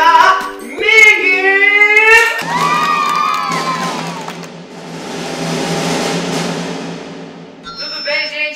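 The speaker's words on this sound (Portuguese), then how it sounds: "Uma salva de palmas desde já, Migue" A school audience at a talent show erupts in loud cheering as the next act is welcomed, with children's high shouts and whoops rising over a broad wash of crowd noise that swells and fades in waves.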